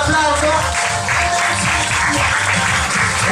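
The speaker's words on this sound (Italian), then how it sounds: "Grazie, un applauso." Applause from an audience at a carnival event in Termini, filling the room steadily throughout, dense and fairly loud with a little background voice mixed in.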